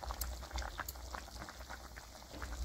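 Leftover thin curry simmering while being reheated in a pan, quiet close bubbling with soft irregular plops over a low hum.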